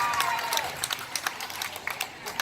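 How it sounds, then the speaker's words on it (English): An audience applauds Carrie at a charity golf event, a moderate patter of scattered claps with sharp individual hits standing out, steady for a couple of seconds with no voices over it. "Big round of applause for Carrie giving all that money back."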